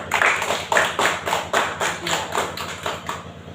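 A classroom of students clapping for a classmate in rhythmic unison, a regular chant-like beat of about seven claps at a steady pace, close and loud.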